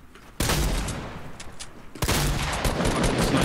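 Sustained roaring minigun fire in the Fortnite battle royale game, a dense continuous rattle of rapid shots that cuts in loudly, falters briefly, then resumes at full intensity.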